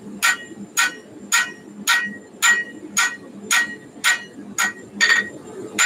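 A hammer strikes a hot blade's bevel during forging: about nine loud, evenly spaced metallic blows ring out close by at a steady rhythm over a low background hum.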